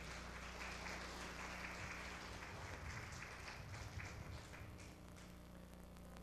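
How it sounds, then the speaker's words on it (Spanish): A church congregation claps loudly in praise during a sermon, a continuous wash of applause over a low hum in a reverberant hall, tapering slightly near the end. "Den un aplauso fuerte al Señor."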